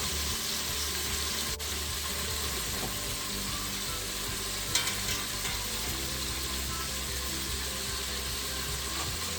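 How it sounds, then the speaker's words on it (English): Meatballs browning in a large, very hot pan give a steady, dense sizzle that runs evenly throughout, close and fairly loud, with a brief clink or two of stirring near the middle and no talking. "So I'm trying to brown my meatballs into a pot rather than a deeper frying"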